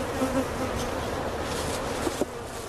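A dense, steady buzz of many honey bees swarming close by, continuous throughout with a few brief louder passes near the end.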